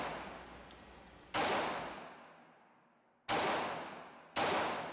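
Smith & Wesson Model 39-2 9mm semi-automatic pistol firing at an outdoor range: three sharp, loud shots, the first after a pause and the last two closer together, each cracking and fading into a long decaying echo.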